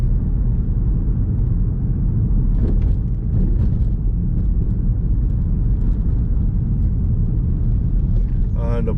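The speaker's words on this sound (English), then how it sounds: "Driving along in third gear now." A car driving steadily along in third gear, its engine and road noise forming a loud, continuous rumble throughout, with a brief higher whine near the end.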